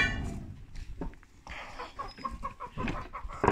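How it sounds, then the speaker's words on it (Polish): Chickens and roosters cluck repeatedly at close range during a morning release of farm poultry from their coop, with irregular bursts of fowl calls and scratching bustle and no talk. "tu kurki wypuścimy"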